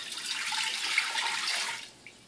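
About three cups of chicken stock pour into a pot, a steady liquid rush that tapers off near the end.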